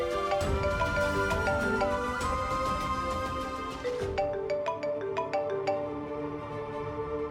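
A telephone rings for an incoming call, a melodic electronic ringtone that repeats its tune over several seconds, fairly loud and alone, with a short pause and a thinner restart partway through.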